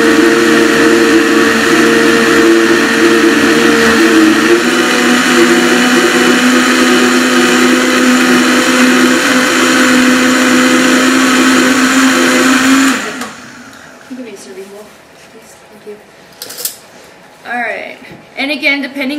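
A high-speed blender blending tomato basil soup whirs loudly and steadily for about thirteen seconds, then stops, leaving quiet clinks and faint movement.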